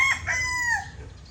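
A rooster crows loudly and close at a farm in one drawn-out call that trails off, with faint background noise and no speech.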